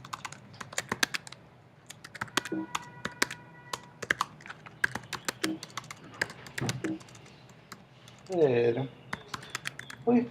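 Fingers tapping on a computer keyboard in a class session, bursts of quick irregular clicks close to the mic with brief pauses, and a voice speaks now and then over the typing.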